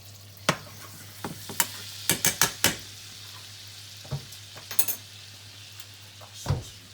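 Mackerel fillets fry and get basted in a pan with a steady sizzle, while spoon and pan clatter brings sharp knocks and scrapes through the seven seconds.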